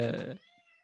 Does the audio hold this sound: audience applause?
no